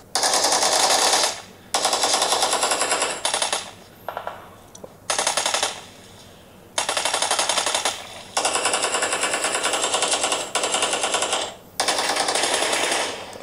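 PUBG Mobile gunfight played on a Xiaomi 13 Ultra phone: loud, sustained bursts of rapid automatic gunfire, several seconds each, separated by short pauses and occasional lone shots.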